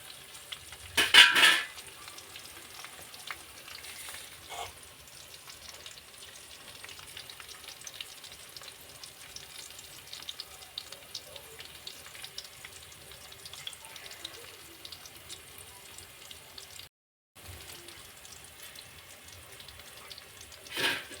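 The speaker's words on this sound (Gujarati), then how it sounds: "થોડી વાર આપણે હલાવીએ તો મસાલા આપણે નીચે બેસે નહીં" Masala for matar paneer sizzles steadily as it is stirred in a pan over a low gas flame, with a few sharp utensil scrapes near the start and no talking.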